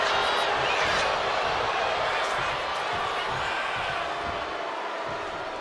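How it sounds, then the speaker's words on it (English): Loud crowd roar from a live WWE 2K26 wrestling match between Seth Rollins and Bron Breakker, a dense sustained cheer filling the arena and slowly easing off. "And a live crowd doesn't get any hotter than this."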